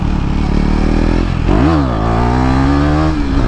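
A KTM Duke 390 motorcycle engine held at a loud, steady drone, then rising and falling in pitch through a wheelie rev before settling, close and continuous with no talk.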